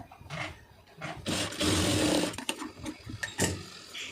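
A sewing machine stitches the shoulder seam of a silk saree blouse in short runs, with a whirring, rattling burst that builds to a steady stretch of stitching before stopping and starting again in quick spurts.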